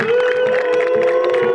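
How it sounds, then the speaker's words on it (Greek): A crowd at the football ground in Ano Syros applauds and cheers in a warm, lively atmosphere, a steady, loud wash of clapping and voices with a sustained tonal drone running beneath. "Ακούτε και το χειροκρότημα εδώ στην πολύ καλή και ζεστή ατμόσφαιρα στο γήπεδο της"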